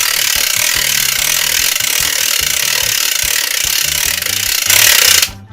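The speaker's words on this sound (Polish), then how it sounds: "No to dobra, to nakręcimy mocniej." A hand-cranked radio generator is wound harder, giving a steady, loud mechanical whirring with rapid rhythmic grinding pulses that builds slightly toward the end before stopping abruptly; no talking.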